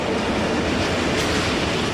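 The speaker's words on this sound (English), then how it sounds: "the 1931 passes a stabled sister locomotive waiting for its next tour of duty" A Portuguese Railways locomotive hauling freight wagons loaded with steel coil rumbles steadily past on the rails, loud and continuous with a dense roar and faint wheel squeal.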